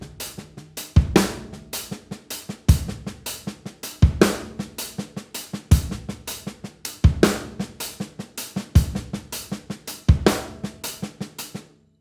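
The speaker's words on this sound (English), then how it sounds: "Let's convert that into a groove by putting a kick drum on 1." Drum set groove with a kick drum on the one and a snare backbeat, including ghost notes, played close and steady in a repeating pattern of crisp hits over about twelve seconds, with no talking.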